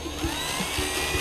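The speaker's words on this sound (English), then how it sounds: "And then take our drill and screw it away." A power drill drives a screw into a school bus panel, a close, whining motor hum broken by short rhythmic pulses as the screw bites and turns, with no talk.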